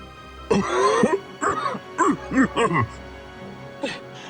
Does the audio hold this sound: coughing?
yes